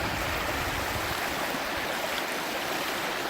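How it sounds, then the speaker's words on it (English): A creek rushes loudly and continuously at a river crossing in the Blue Mountains, a dense, steady close-up wash of flowing water with no voices. "Attempting a perilous river crossing."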